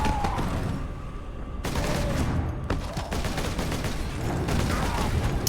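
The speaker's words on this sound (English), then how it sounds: "The bolters look and sound good." Bolter fire in the Space Marine video game: heavy, rapid automatic shots boom almost continuously over a dense rumble of battle, with a few sharper blasts standing out.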